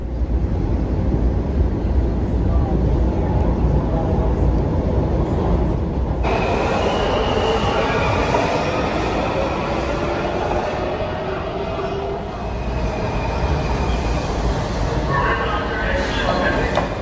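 A commuter train in the Washington, DC area runs along its rails, heard from inside as a loud, continuous rumble with wheel noise and occasional high squeals, steady throughout.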